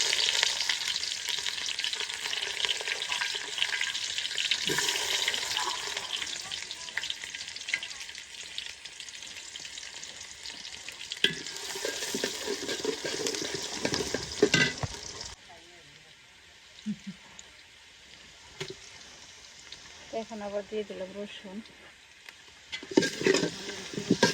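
Whole spices — bay leaf, cumin, cardamom and cinnamon — sizzle and crackle in hot oil with occasional stirring, steady and close for most of the stretch, then quieter spitting toward the end, with a voice speaking now and then.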